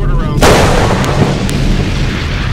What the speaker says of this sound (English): Oh shit, there's fucking mortar rounds.